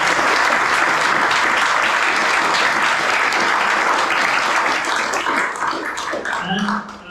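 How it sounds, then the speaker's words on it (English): A crowd applauds at a whisky forum held at a distillery in Komoro, a dense, even clapping that carries on loudly before thinning out toward the end. "And a round of applause for that one too."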